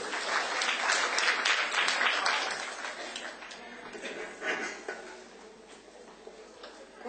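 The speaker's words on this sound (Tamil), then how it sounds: "எங்கே உங்களுடைய கரகோஷம்?" An audience applauds at a Tamil Christmas-season debate event, broad steady clapping that starts full and gradually thins and fades over several seconds, with no speech over it.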